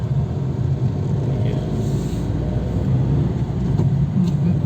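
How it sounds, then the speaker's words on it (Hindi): Tata Tiago CNG car engine pushed to higher revs while driving, a steady, loud low rumble with road and cabin noise filling the interior, continuous and close throughout. "अब ज़रा मैं आपको इसको पुश ज़्यादा हायर आरपीएम पे आपको चला के दिखाता हूँ ये कैसे चल रही है"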